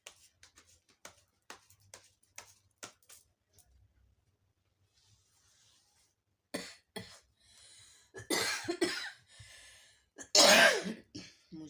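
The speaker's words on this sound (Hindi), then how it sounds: "मुझे इसकी वजह से खांसी आ रही है।" Several harsh coughs and throat clearing, close by, in bursts toward the end after a stretch of quiet faint shuffling.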